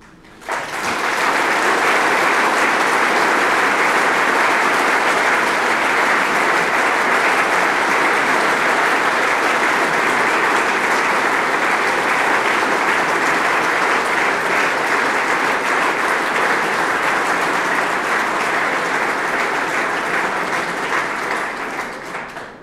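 Sustained, dense applause from a large audience at a New Year's reception, a steady wash of clapping that starts abruptly and holds evenly loud for about twenty seconds before tapering at the end, with no voices over it.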